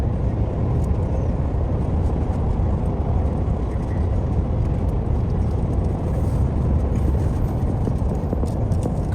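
Car driving home on the road, a continuous low rumble of engine and tire noise from inside the vehicle, steady and fairly loud throughout.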